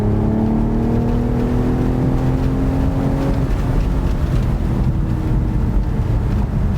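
A 2020 BMW Z4 M40i engine drones loudly as it accelerates, holding a gear at high RPM with a rising, sustained whine over steady road roar.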